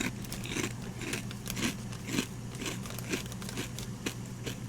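Close crunching bites of salt and vinegar Mac's pork rinds, a keto snack, with crisp crackles repeating roughly every half second to second in a steady chewing rhythm, no talking.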